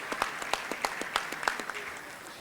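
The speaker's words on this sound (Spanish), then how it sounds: "un fuerte aplauso para el Instituto Colombo Panameño de Derecho Procesal" An audience at a law panel on consumer rights and public services applauds steadily, dense sharp claps forming a continuous crackle that stays moderately loud for a couple of seconds before thinning slightly.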